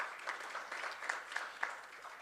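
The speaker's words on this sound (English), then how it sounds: "a round of applause for her" Faint, distant applause from a surgical society conference audience, a thin patter of clapping with a few sharper claps standing out, heard alone without talk.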